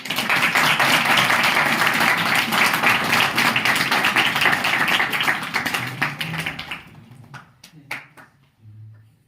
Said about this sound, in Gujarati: મોજ આવે તો તાળી વગાડો.